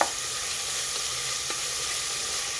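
Something fries in a pan with salt, giving a steady close hiss of sizzling oil with a couple of faint stirring scrapes, no voices.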